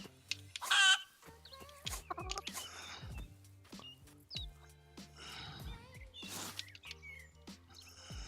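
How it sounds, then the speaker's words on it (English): Chickens cluck and squawk in the survival video game Rising World, several short bursts of clucking scattered irregularly over a quiet background, close and moderately loud. "Oh, chickens."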